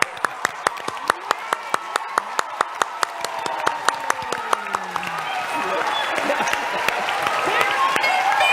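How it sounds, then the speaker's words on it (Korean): An audience claps through a church sermon event, starting with one or two sharp rhythmic claps that swell into fuller, denser applause from a crowd, with some voices mixed in. "박수 한번 주세요."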